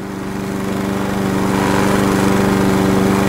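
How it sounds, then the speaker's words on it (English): Ride-on lawnmower engine in a lawnmower video game, a steady loud droning hum that builds slightly in volume and runs on alone with no music or talking. "There's no music, just the comforting sounds of a ride-on lawnmower."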